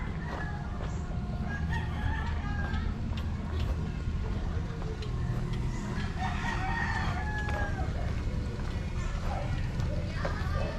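Pet gamecocks kept as fighting roosters crow repeatedly beside a roadside residence in a coastal area, each call rising over steady traffic-like rumble and background chatter, with people talking nearby.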